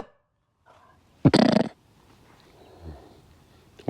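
A dog in a garden with a pond under construction makes one loud, rough vocal burst lasting about half a second, close to the microphone, with faint snuffling and rustling before and after.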